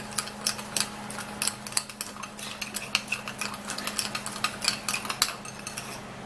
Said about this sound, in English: when you stir this sugar really well, it becomes really thick